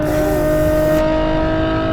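A Novitec-tuned Ferrari F12 engine revs hard at close range, a loud, sustained high-pitched wail with steady harmonic tone and no talking.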